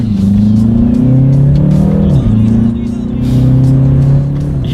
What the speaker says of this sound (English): let's do that paddle shifter test here